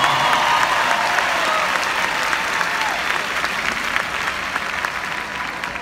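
Loud, sustained audience applause at a concert, with crowd noise, greeting the keyboard player as he is introduced. It fills the whole stretch steadily, then eases off slightly toward the end.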